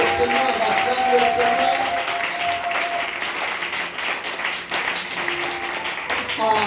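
A church congregation claps and cheers continuously, with sustained tones from voices or music running under the applause at a moderate, even level.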